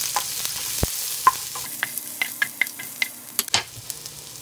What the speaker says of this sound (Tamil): இதில் வெட்டி வச்சிருக்கிற இஞ்சி போட்டுடலாம் பச்சை மிளகாயும் போட்டுடலாங்க